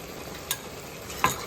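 Semiya kesari with crushed cardamom is stirred in a pan: a soft bubbling background broken by two brief spoon scrapes against the pan.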